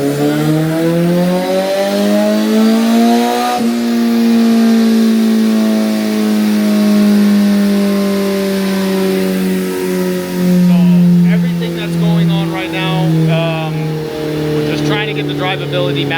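A Kawasaki ZX-14R motorcycle with a stage 2 turbo kit idles and revs on a tuning setup, its steady harmonic engine drone rising and dipping slowly while someone talks over it.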